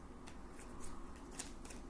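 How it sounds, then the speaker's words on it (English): Large illustrated tarot-style cards being shuffled by hand, giving soft repeated papery riffles and flicks at a close, low level over a faint background hum. "These are big cards to shuffle, but they have beautiful artwork on them"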